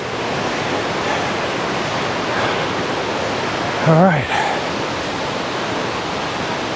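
Mae Ya waterfall in Thailand roars as a steady, broad wash of rushing water, loud and continuous throughout, with a brief voice speaking once partway through.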